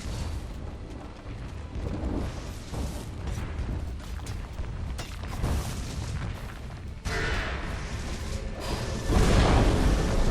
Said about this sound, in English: Dire's middle tower has fallen.